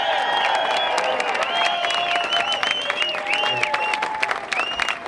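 A large crowd at a Massachusetts GOP rally opposing a vaccine mandate claps and cheers loudly and steadily, with whistles and shouts rising over dense, continuous applause.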